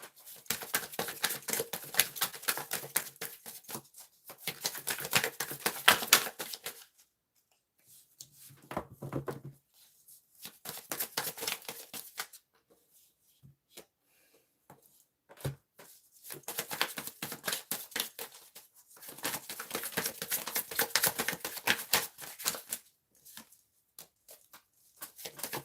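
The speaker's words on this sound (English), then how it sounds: "Dang, I gotta shuffle this again." A deck of tarot cards is shuffled in close-up bursts of rapid riffling and crisp flicking, separated by short quiet pauses and a few soft taps as the cards are squared.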